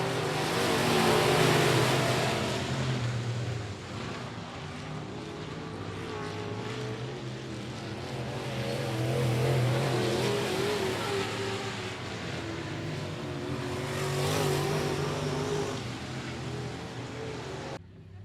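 Race cars circling I-37 Speedway, a loud continuous engine roar that swells and fades as the pack passes, with broad harmonic drones throughout and no talk.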